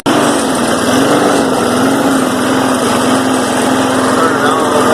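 A lawn mower's small engine runs with no oil in the crankcase, giving a loud, steady, high-pitched drone that holds without a break from start to end.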